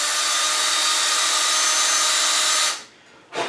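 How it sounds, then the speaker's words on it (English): Power drill spinning a bit backwards against a bonsai branch, a loud, steady high whine that cuts off abruptly, followed by a short burst of spin at the end. "plant the drill bit where I want this new apex to be, rotate it backwards"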